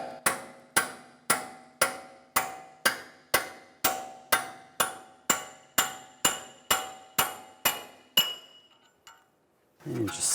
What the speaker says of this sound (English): Now hammer the axle out the rest of the way.